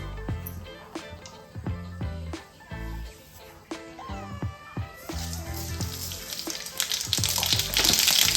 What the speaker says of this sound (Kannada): ಸೊ ಸಾಸಿವೆ ಸಿಡಿದಿದ್ದೀನಿ